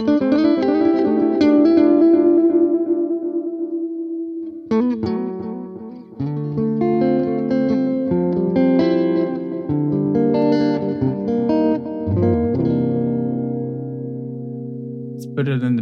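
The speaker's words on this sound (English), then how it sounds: "let's check this tape echo and let's try it in front of the amp" An electric guitar played through a tape echo effect in AmpliTube 5's Fender Collection, set in front of the amp, rings out in picked notes and chords whose repeats trail and smear, loud and close, with long decaying tails between phrases.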